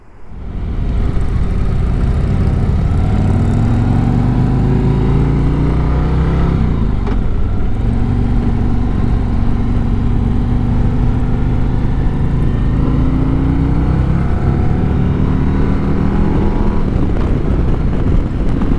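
A 2024 Harley-Davidson Road Glide runs as it starts and rides off, giving a loud, continuous engine rumble with a smooth rise in revs and a brief dip partway through, close throughout.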